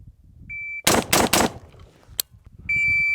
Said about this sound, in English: So I wanna get 3 shots in under 1 second.